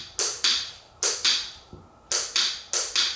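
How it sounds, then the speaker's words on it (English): Sharp mouth clicks made for echolocation toward an open hallway in a home, about eight crisp taps in an irregular rhythm, close and fairly loud with short gaps between them. "clicks towards an open hallway"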